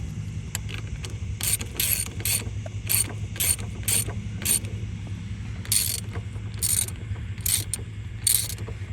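Ratchet wrench tightening a 7/8 front axle nut on a Honda Fourtrax 300 4x4, a rapid clicking in repeated bursts, close and fairly loud over a low steady hum, with no voices.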